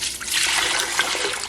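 Eight cups of hot water poured into a Nesco electric canner pot, a close, steady splashing trickle that fills the whole moment without talk.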